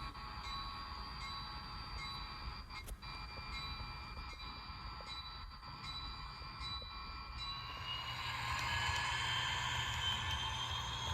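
An HO scale model train running steadily on a layout with a whirring motor and faint clicking over track joints, the hum swelling louder toward the end.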